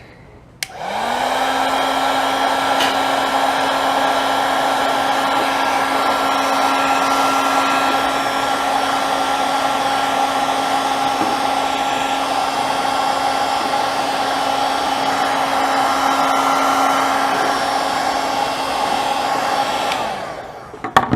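Heat gun blows steadily on heat-shrink tubing over soldered wire, a loud constant whine and rushing airflow lasting about twenty seconds with no talk.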